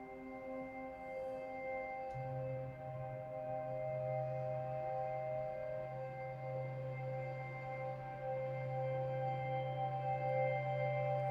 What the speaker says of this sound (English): I've got this textural grid patch, which sounds something like this.